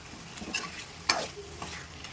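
Chicken pieces fry on high flame for a chicken fry piece biryani: a brief, quiet sizzle broken by a few sharp scraping strokes of a spatula against the pan.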